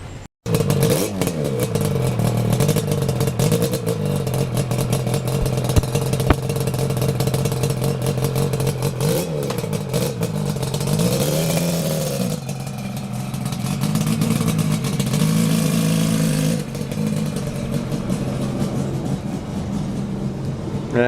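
A two-stroke RZ350/RD400 motorcycle engine runs close and loud, a steady raspy buzz that rises and falls through several revs for about twenty seconds, with no voices.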